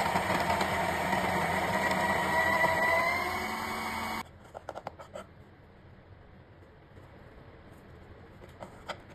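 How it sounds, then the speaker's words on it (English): A HiBREW G3A grinder grinds coffee beans with a steady, close motor whine for about four seconds, then stops abruptly. A few faint clicks and handling noises follow in the quiet. "Begin by grinding your coffee beans using the HiBREW G3A grinder for a consistent and aromatic grind."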